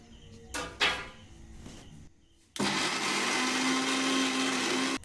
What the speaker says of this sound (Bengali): এবার মিক্সার করে নেবো।